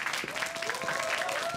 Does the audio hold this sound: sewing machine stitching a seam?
no